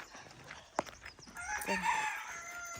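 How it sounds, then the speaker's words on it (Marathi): A rooster crows once in the middle distance at a village farm compound, a rising then sustained call over faint background noise and a sharp click just before it. "कोंबडा बघा"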